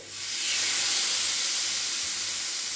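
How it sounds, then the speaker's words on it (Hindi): Loud, continuous sizzling hiss of chicken searing on a hot griddle, steady throughout with no speech. "तावा अब हमारा अच्छे से गर्म हो गया है। अब इसमें हम डायरेक्टली डाल देंगे चिकन।"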